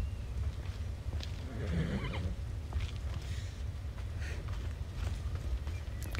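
A horse whinnies in the Assassin's Creed Odyssey video game, a short neigh rising over a rumbling, busy game soundscape with faint thuds like hooves, moderately loud.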